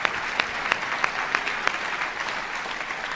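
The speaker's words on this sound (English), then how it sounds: "That's right, we should be clapping." Audience at a university opening convocation claps together; moderately distant, even applause with a few sharper individual claps standing out in a regular rhythm.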